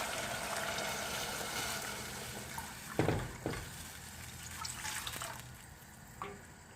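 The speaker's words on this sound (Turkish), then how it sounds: "Şimdi suyunu koyacağım." Water poured into a soup pot in a home kitchen, a soft continuous splashing and trickle, quiet and close, with a few brief clatters.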